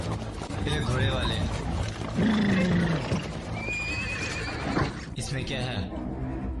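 A horse neighs in a loud, descending whinny amid a dramatized historical scene with hoof clops and voices talking around it.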